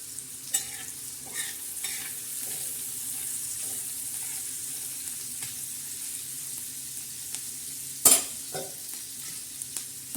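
Onion softly sizzles on a hot griddle, a low, even frying hiss broken by occasional spatula scrapes and one sharp metallic clank, with no talking.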